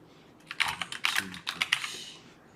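Quick bursts of typing on a computer keyboard, clustered key clicks close to the microphone in an irregular rhythm with short pauses between words, against a quiet room.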